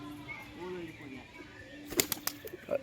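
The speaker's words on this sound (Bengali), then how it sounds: "এই যে সুখচাঁদ ভাই একটা পায়রা ধরেছে সকালবেলা লুকিয়ে লুকিয়ে" A pigeon caught in the morning gives soft cooing calls, then a burst of sharp wing flaps and rustling close by.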